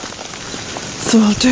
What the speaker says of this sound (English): it's hailstoning now